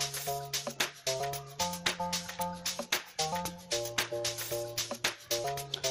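A wobbly synth bass line for amapiano (sgija) pulses rhythmically under crisp drums, steady and upfront throughout with no voices, made in FL Studio Mobile.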